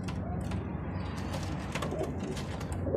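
Pigeons coo softly in a loft, low repeated throaty calls under a busy rustle of wings and shuffling, close and continuous.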